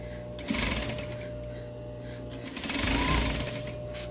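A sewing machine whirs in rapid mechanical bursts while stitching fabric, running steadily then speeding up, close and clear with faint background noise.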